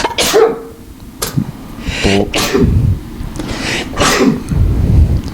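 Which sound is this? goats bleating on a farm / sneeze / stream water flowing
sneeze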